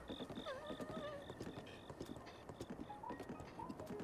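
Horse hooves clip-clop in Zelda: Breath of the Wild, a steady run of quick, close footfalls under game music with repeated high notes, no talk.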